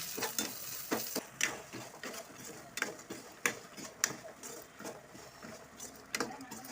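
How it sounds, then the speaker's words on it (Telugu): Spiced food with salt, turmeric and chili powder stirred in a pan, with repeated close scraping strokes of a spoon against the pan over a soft sizzle, at an uneven rhythm and with no talk. "వేసుకొని ఇట్లా కలుపుకోవాలి."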